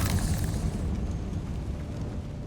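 Blasting spells such as Bombarda and Confringo explode in the Hogwarts Legacy video game, making a loud, sustained, roaring burst that tapers slowly into rumbling debris.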